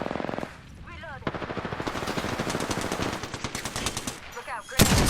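Automatic weapons fire comes in sustained rapid bursts during an Apex Legends firefight. The shots are close and crisp, with a sharp extra shot near the end.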